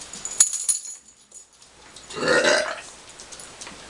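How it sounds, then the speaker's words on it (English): A person burps loudly near a dog, one drawn-out belch in the middle of the clip after a few quieter noises, with no talking. "She don't even care about the burping."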